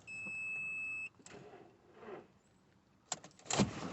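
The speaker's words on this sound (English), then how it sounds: "So we'll turn the ignition on." An Audi TT that will not crank has its ignition switched on: a steady electronic tone for about a second, then soft clicks and whirring of interior electrics, ending with a sharp louder burst, all near and without talk.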